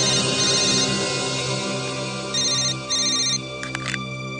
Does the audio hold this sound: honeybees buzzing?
no